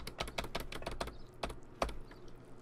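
A computer keyboard clatters under quick, close typing, with irregular bursts of crisp key taps and short pauses and no voices.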